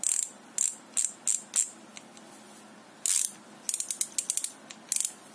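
A Solon fatbike rear hub freewheel clicks as it is spun, bursts of fast ratcheting ticks separated by short pauses, close and fairly quiet.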